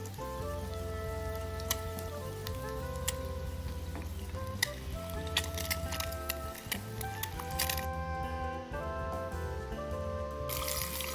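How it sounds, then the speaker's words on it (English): Eggs fry in oil in a pan with a steady, close crackling sizzle, dotted with sharp pops and spits throughout. "I prefer to fry the egg until the yolk gets solid"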